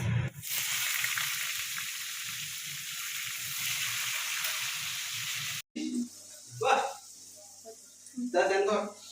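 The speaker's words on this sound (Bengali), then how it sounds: "পটল ভাজার তেলে এবার দিয়ে দেবো পেঁয়াজ" Loud, steady sizzling of onions frying in hot oil left from frying pointed gourd, dropping off abruptly partway through, followed by brief bursts of talking over quieter sizzle.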